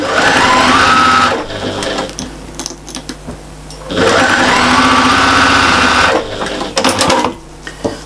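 Sewing machine running in two sustained bursts, basting along the edge of patchwork and applique cushion fabric, with a pause between and a few short stitches at the end; loud and close.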